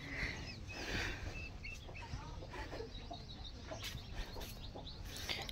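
Chickens and roosters at a backyard coop cluck and call, a hen brooding nearby, with several overlapping clucks and short squawks at close range over a steady rustle of outdoor background.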